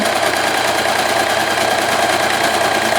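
A sewing machine runs in reverse while stitching a quilted mug cozy, giving off a loud, continuous, even mechanical whir with a fast, steady rhythm and no talk over it.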